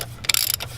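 A 24mm socket on a ratchet breaks loose the oil filter on a Dodge Challenger during an oil change, giving a short burst of close, rapid metallic clicking.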